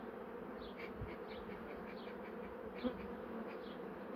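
Honey bees buzz around their hives at a rainy Ardahan apiary, a steady, low droning hum from many insects with a few individual bees passing close, alone without talk.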